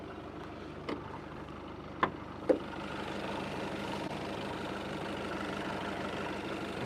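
A 2009 Volkswagen Passat 2.0 TDI diesel engine idles steadily at a low rumble, with a few brief clicks or knocks near the start, then a constant even drone.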